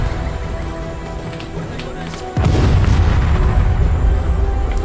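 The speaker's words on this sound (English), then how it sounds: "The artillery in the airstrike was actually really effective." Artillery fire and an airstrike in the Vietnam War game Call to Arms, with a steady rumble of battle that swells into a loud, sustained roaring blast halfway through.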